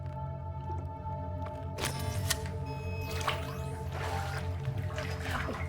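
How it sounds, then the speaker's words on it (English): Water in Cyberpunk 2077 squishes, drips and trickles in a steady run of liquid sounds over a low ambient hum, played on a Steam Deck. "The water sound is really good."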